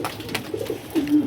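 Pet pigeons at home give a brief pair of low, throaty coos up close, the second one slightly louder and longer.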